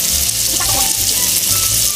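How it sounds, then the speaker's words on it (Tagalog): Garlic sautéing in hot olive oil with a splash of fish sauce, a loud steady sizzle and crackle close up, with faint stirring scrapes in the pan. "Maglagay tayo ng olive oil. Sigdan natin ng garlic. Gisayin lang po natin."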